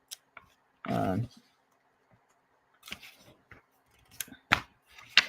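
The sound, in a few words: scissors cutting paper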